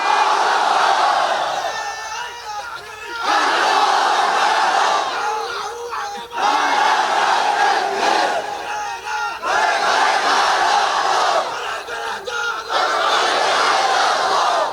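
A large crowd at a Bengali religious sermon gathering roars a takbir response to a preacher, loud massed voices in repeated surging waves separated by short dips.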